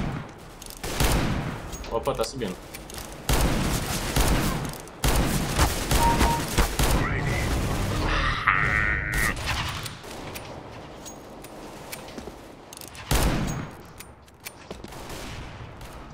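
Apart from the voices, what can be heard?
Revolver R8 gunfire in the video game CS:GO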